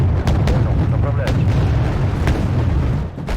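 Artillery and missile fire in the military strategy game Wargame: Red Dragon, a dense, continuous rumble of booms and launches with a few sharper bursts, loud and steady throughout with background talk.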